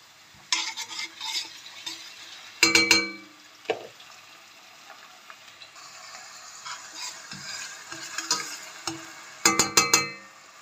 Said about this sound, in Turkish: Salçayla soğanı iyice kavuruyorum